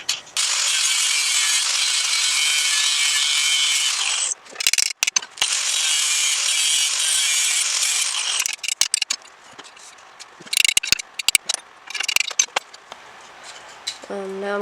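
Metal is ground down to widen bolt holes on a Sailor Jerry chopper motorcycle build. Two long, loud, harsh grinding runs are followed by scattered clanks and short rasps.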